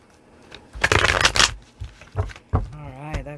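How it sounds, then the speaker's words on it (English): Tarot cards being shuffled by hand, a dense riffling burst of paper flutter near the start followed by a few shorter card slaps, close and fairly loud, with a brief voice-like tone near the end. "I'm just going to grab 3 shuffles now."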